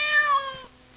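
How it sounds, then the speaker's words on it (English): A single cat meow, close and clear, with a rising then falling drawn-out cry that fades out within a second. "Still shaking with fear, the cat jumped up into Jem's arms where it instantly settled down"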